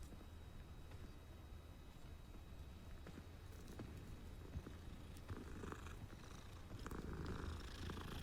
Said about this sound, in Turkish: Evet, bu oyunda kedi sevebiliyorsunuz.